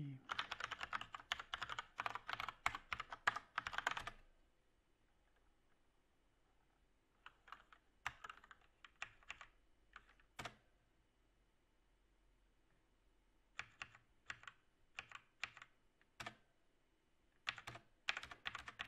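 Typing on a computer keyboard comes in irregular bursts of rapid clicking keystrokes, separated by quiet pauses, close and fairly crisp.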